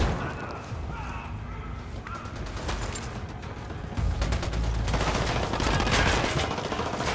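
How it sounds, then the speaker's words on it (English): Gunfire in Ghost Recon Wildlands, bursts of rapid shots cracking at mid distance that thicken into denser automatic fire in the second half, with a voice speaking briefly among them. "Taking fire."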